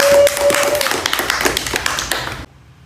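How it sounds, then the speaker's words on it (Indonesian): A small seated group in a group counselling session claps for one member, a dense burst of hand claps for about two and a half seconds that stops abruptly. "kita beri tepuk tangan untuk Arsi"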